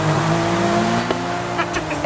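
Sustained car engine note in Forza Horizon 5, a Japanese 1990s performance car, droning loud and steady with a couple of brief upward rev bursts and light squeal near the end.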